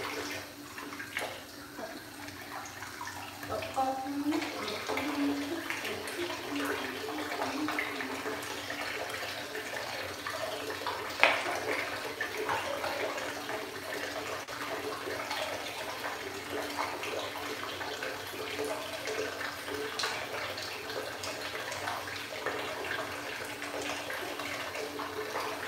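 Water runs steadily into a bathtub filling for a hot bath, a continuous broadband rush holding a fairly constant level from start to finish, with one brief sharper splash or knock partway through.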